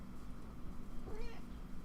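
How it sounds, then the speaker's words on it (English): A cat gives a single short meow, faint and somewhat distant, over a quiet background hum. "Yeah, that's just a cat."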